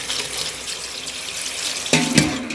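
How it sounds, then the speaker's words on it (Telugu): Water poured over bunches of gongura leaves to rinse them, a broad splashing wash that builds steadily and swells into two louder gushes near the end. "నీళ్ళు పోసిన ఎక్కువ నీళ్ళు పోసుకోవాలి."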